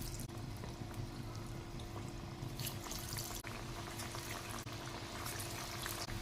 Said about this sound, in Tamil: இதை அழுங்காமல் எண்ணெயில் ட்ராப் பண்ணிடுங்க.